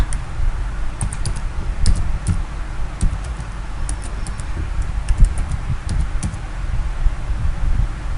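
Steady typing on a computer keyboard while entering a video description for a YouTube upload, with crisp key clicks scattered over a low background hum, fairly close and without any talk.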